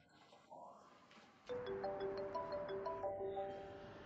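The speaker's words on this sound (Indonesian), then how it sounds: "Telepon Song Nuan" Mobile phone ringing with a bright melodic ringtone that starts abruptly after a quiet stretch and repeats its rising-and-falling notes, fairly close, with faint voices beneath.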